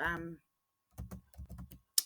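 Keys tapped on a computer keyboard while a channel name is entered, a short burst of a voice at the start, then a pause and several clustered runs of quick clicks ending in a sharp tap.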